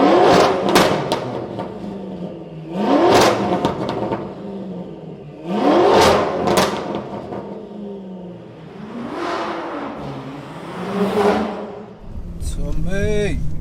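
A 1000bhp BMW M5 on a night drive, its engine swelling in four or five loud revving surges that rise and fall, with voices mixed in.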